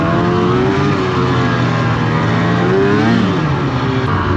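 Snowmobile engine revving loud and close while riding over fresh, unpacked snow near Zakopane, a continuous droning roar that rises and falls in pitch.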